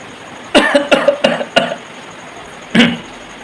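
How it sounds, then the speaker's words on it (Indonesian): A burst of four or five quick coughs in a row, then a short pause and one more cough, close and loud. "Batuk kita guys, walaupun batuknya sebenarnya kan ada gatal-gatal sedikit di sini."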